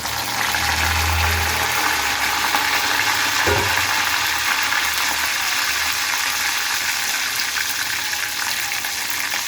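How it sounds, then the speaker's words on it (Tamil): Curry leaves crackle and sizzle in hot oil with sautéed garlic, a steady loud hiss throughout with one brief knock partway through. "இது இந்த பூண்டு வதங்கின உடனே கொஞ்சோண்டு ஒரு கொத்து கருவேப்பிலை போடலாம்"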